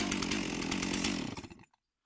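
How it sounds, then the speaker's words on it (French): A Stihl chainsaw and a Luxarna chainsaw running, a buzzing two-stroke engine idling loudly close by before cutting out and winding down to silence near the end. "présentation de ces deux tronçonneuses, la Stihl et Luxarna"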